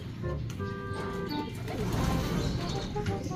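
Racing pigeons arriving at a loft, soft cooing and brief chirps from nearby birds over a steady low background rustle, faint and close.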